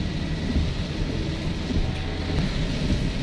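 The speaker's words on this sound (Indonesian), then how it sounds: "Sudah hujan nih." Steady rain falls while a vehicle drives along a road in the Kuningan–Beber area of West Java. It makes a constant, even hiss blended with low road rumble, with no voices.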